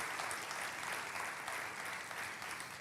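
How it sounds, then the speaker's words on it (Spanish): A church congregation applauds in a steady, continuous wash of clapping, fairly distant and low in level, with no clear speech over it. "Aplauda ese Dios"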